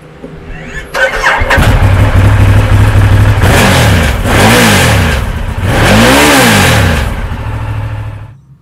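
A 2015 Ducati Diavel's L-twin motorcycle engine starts up close and loud, then rises and falls through several sharp revs before dropping back to a rough idle.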